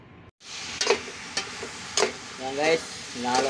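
Cabbage and broccoli stir-fried in a pan sizzle steadily after a brief silence, with scraping stirs and clatters of a utensil against the pan at irregular intervals, close and loud, and a voice briefly talking near the end.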